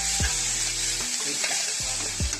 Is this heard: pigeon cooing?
no